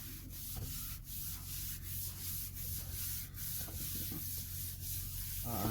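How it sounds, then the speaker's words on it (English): A surface being wiped down in a kitchen, with steady, soft rubbing strokes in a quick rhythm, heard up close and quietly over a low background hum. "wipe this down real quick"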